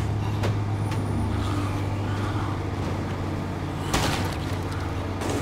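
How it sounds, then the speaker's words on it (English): A military truck drives in the zombie-survival video game State of Decay 2, giving a steady low engine drone with road rumble throughout and a brief clunk partway through. "This military truck is cool."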